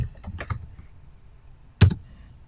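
Someone types code on a computer keyboard: a short cluster of soft keystrokes, a pause, then a sharper burst of clicks near the end, all fairly quiet and close.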